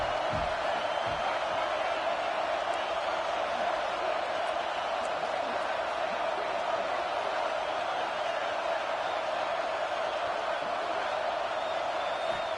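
Steady stadium crowd roar from a football video game, the home fans cheering on the defense during a red-zone stand, a continuous dense wash of massed voices with no break.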